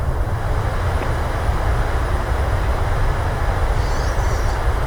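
Loud, steady broadband roar of a Boeing 737-800 (PMDG model) applying reverse thrust on landing at Cape Town in Microsoft Flight Simulator 2020, continuous and unbroken throughout with no talk.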